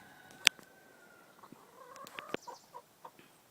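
A chicken in a coop gives a few soft, scattered clucks and chirps with a sharp click near the start, faint and close in an otherwise quiet space.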